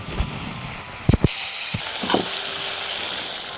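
Chicken stir-fried in a pan for a Bengali bean bharta recipe sizzles steadily and close up, with a few sharp clanks and scrapes of a spatula against the pan.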